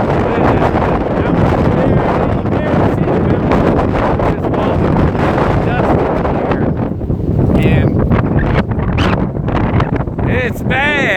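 A strong 56 mph wind buffets the microphone outdoors, a dense continuous roar with gusty surges, and a voice is partly heard underneath it.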